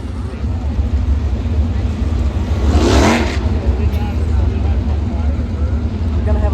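Sprint car engines roar at the World of Outlaws finals race, a loud continuous drone with one car swelling past nearby mid-way, under a steady background of track noise.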